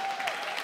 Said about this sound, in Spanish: Un aplauso fuerte a Karen Martelo.